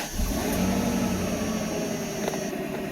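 A 1993 Mercedes 500E engine idling steadily after starting, a close, even low hum with a faint whine on top and a brief click partway through.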